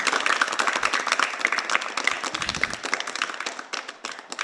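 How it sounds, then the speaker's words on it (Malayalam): Children clap their hands together at a program, a fast, dense run of claps that carries on steadily throughout and tapers slightly toward the end. "clap your hands"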